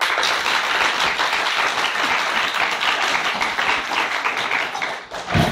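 Crowd applause greeting a king as he is crowned in a drama, a loud, continuous roar of clapping that stays full throughout before briefly dipping near the end.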